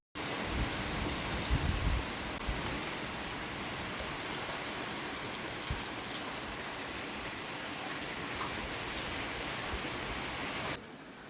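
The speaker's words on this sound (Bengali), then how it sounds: "এত বৃষ্টি, সারা রাত ধরে বৃষ্টি পড়তেছে।" Heavy overnight rain pouring during a cyclone threat in Assam, a dense continuous hiss of rainfall at moderate distance, steady throughout with slightly heavier splashing at the start and a sudden drop in level just before the end.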